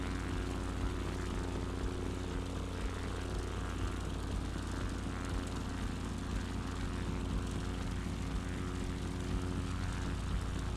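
A propeller aircraft engine drones steadily in a bush-flying simulator game over New Guinea, running at about 90% power, with a constant loud hum and low throb and no voices.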